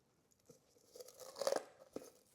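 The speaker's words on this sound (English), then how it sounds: "I'm gonna go ahead and crinkle it, and you can see that that Jesmonite crinkles right up and makes this wonderful flakes." Cured Jesmonite crinkled by hand into flakes gives a few close, quiet crunches and crackles, with scattered crisp snaps building to a denser burst of crackling midway and then a final sharp crack.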